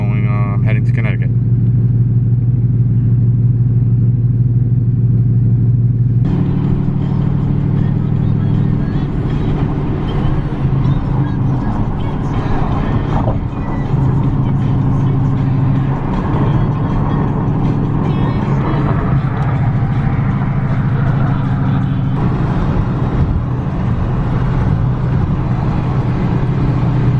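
A 700HP 2018 Ford Mustang GT cruising on a highway, its engine a steady low drone with constant road and tire rumble filling the cabin, while someone talks over it throughout.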